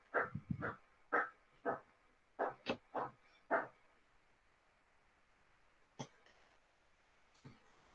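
A dog barks in a series of sharp, separate yaps, several in quick succession early on, then two isolated barks later, heard close and fairly loud in an indoor setting with no talk.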